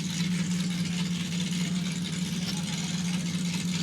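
Off-road race machine built by Tribe 16 at King of the Hammers, its engine a steady, loud, close drone with a low hum running unbroken throughout.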